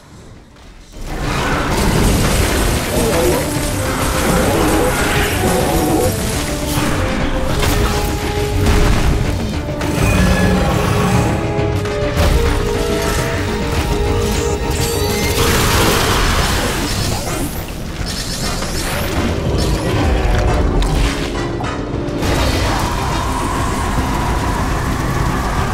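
Super missiles striking a boss in the Metroid Dread video game, a long barrage of booming, crashing impacts and explosive noise filling the whole stretch loudly and continuously.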